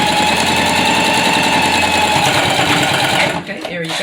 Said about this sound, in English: And then we're going to sew this one down.